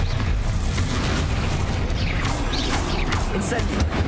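Bombarda blasting spell from Hogwarts Legacy going off amid a loud, dense wash of crashing debris and magical bursts, with sharp pops and rattling mechanisms throughout.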